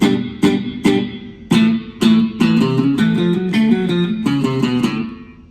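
A clean electric guitar played through a tiny Flamma FX10 headphone amp, with a slight slapback echo, picks out bright twangy notes and chords in a bouncy, country-style rhythm, close and alone.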